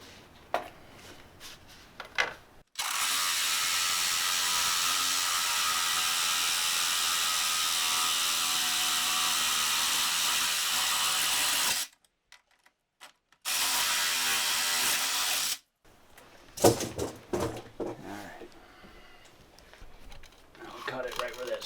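A power tool cuts through an aluminum window frame set in a brick wall, whining steadily for about nine seconds and again briefly after a pause, with quiet talk before and after the cutting.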